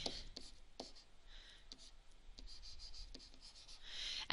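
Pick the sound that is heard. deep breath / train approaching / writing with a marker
writing with a marker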